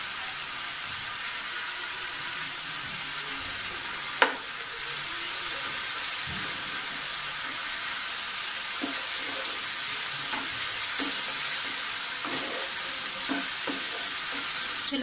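Onions for a kofta gravy sizzle steadily in a pan under a constant broad hiss, with a few soft stirring scrapes and one sharp clink of the utensil.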